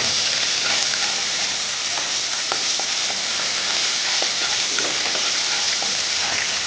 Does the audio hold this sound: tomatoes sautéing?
yes